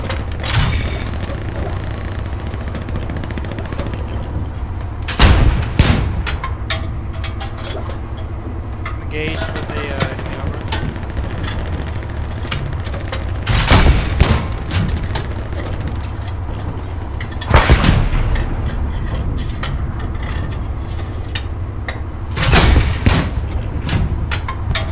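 Gunfire and artillery in the Hell Let Loose combat game: a constant low rumble with occasional sharp booms and distant shots spaced several seconds apart, under a radio-style voice talking.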